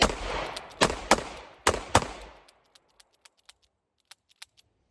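Five shots from a short close-range handgun fired into dirt, sharp cracks in quick succession with ringing echo, then trailing light metallic clinks and ticks.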